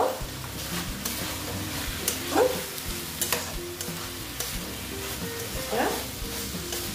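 Banana flower curry stirred in a pan, sizzling in hot ghee with steady frying crackle and scraping spoon strokes, a few louder clatters standing out near and clear.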